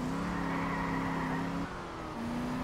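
A car being driven in the video game Just Cause 2, with a steady engine drone holding pitch and dipping briefly before climbing again, loud and continuous with no one talking.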